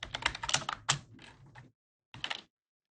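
A computer keyboard clicks and clatters in a quick burst of keystrokes, falls silent briefly, then a second short run of typing follows, close and clear.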